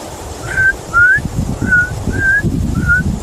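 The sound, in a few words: man whistling, imitating a whistle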